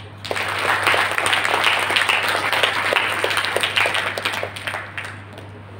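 An audience at an entrepreneurial skills training session at UHS Bagalkot breaks into steady, fairly loud applause, many hands clapping together for about six seconds with no break.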